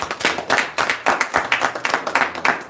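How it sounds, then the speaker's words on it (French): Close, rhythmic clapping from an audience at a Congolese community election results proclamation in Cincinnati, brisk, loud and fairly even in tempo, with no talking over it. "ça demande beaucoup d'applaudissements pour l'équipe"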